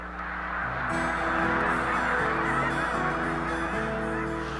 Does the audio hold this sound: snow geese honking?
yes